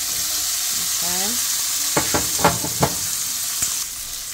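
Seasoned shrimp being turned as they fry in a pot for shrimp fried rice, giving a steady hissing sizzle with a few sharp scraping clacks from the utensil partway through.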